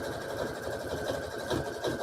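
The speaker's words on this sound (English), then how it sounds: "So we're just sewing top and bottom hem." A sewing machine runs steadily up close, stitching the top and bottom hem of a fleece neck cover with a continuous, even mechanical whir and rapid needle rhythm throughout.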